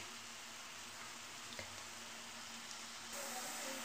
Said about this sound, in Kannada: ಇವಾಗ ಚೆನ್ನಾಗಿ ಫ್ರೈ ಆಗಿದೆ ನೋಡಿ. ಈ ಥರ ಡೀಪ್ ಫ್ರೈ ಆಗಬೇಕು.